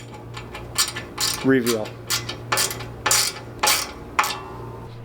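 Screws being inserted into Legrand Mighty Mo 20 end panels, with a series of sharp metallic clicks and ratcheting ticks in an irregular rhythm, close by, and a brief spoken word partway through.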